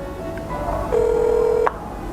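A telephone emits a steady electronic dialing tone lasting under a second amid quiet room ambience, placing a call to family; no one speaks.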